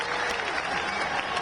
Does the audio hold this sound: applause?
yes